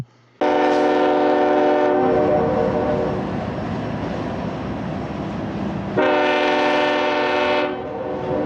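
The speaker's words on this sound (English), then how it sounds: "the tracks are still here, and the trains still rumble through town" A train horn blares loudly in long chords as a train passes through the town of Echo, pauses while the train rumbles past, then sounds again near the end.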